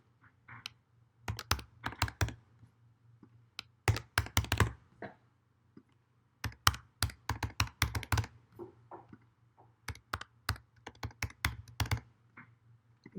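Bursts of typing on a computer keyboard as names and phone numbers are entered into app fields, with quick clattering runs of keystrokes separated by short pauses, close and alone.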